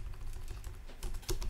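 Keys clatter on a computer keyboard as a short text-box message is typed, a quick uneven run of close, crisp taps with a slightly denser burst near the end.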